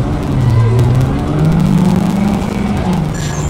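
A car engine revs and accelerates during driving in the Cyberpunk 2077 video game, a loud, close, sustained tone that climbs and dips in pitch with shifts, and voices are present beneath it.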